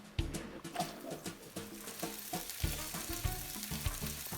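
Onions sizzle and crackle in hot olive oil over medium heat, with repeated stirring thumps and scrapes against the pan at an uneven rhythm, close and fairly quiet.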